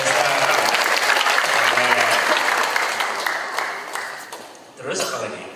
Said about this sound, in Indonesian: Tepuk tangan buat Desa.